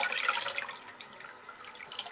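Liquid hot-process aloe and cucumber soap batter pours through a strainer into a crock pot, giving a soft continuous splashing trickle close by.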